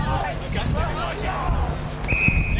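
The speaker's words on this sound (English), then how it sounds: "they've got a whistle on the play" A referee's whistle blown during a 1998 under-15 lacrosse grand final, a short shrill blast near the end rising over crowd babble and commentary.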